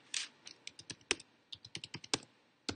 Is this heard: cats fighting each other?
no